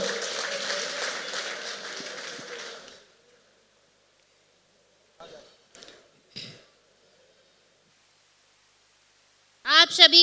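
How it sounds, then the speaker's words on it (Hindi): An audience at an awards ceremony in Roorkee, Haridwar claps loudly for about three seconds, then the applause stops and is followed by scattered brief sounds and a voice. "जोरदार तालियां"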